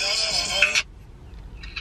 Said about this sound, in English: y'all don't realize my phone be ringing.